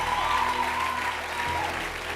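A church congregation applauds together, a dense, steady wash of clapping filling the room for a couple of seconds, loud and continuous with no clear voices on top.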